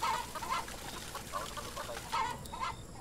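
A chicken clucks repeatedly in the Roblox game Consume, in short, evenly spaced bursts, fairly quiet and steady throughout, with no talking.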